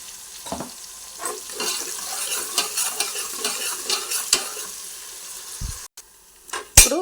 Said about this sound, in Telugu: ఉల్లిగడ్డ త్వరగా వేగడానికి కొంచెం ఉప్పు